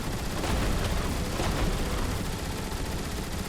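Dense, continuous bursts of rapid gunfire in the video game Transformers: War for Cybertron fill the clip, a steady roar of automatic shooting without pause or speech.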